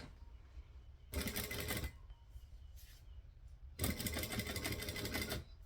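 A sewing machine stitching a line along a fabric bucket bag runs in two quiet, steady bursts of rapid mechanical whirring separated by a pause, with no talk.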